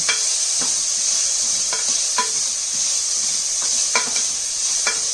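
Onion sautés in a little oil in a pan for veg kurma, with a steady bright sizzle under repeated spatula scrapes and taps at irregular intervals, close and without speech.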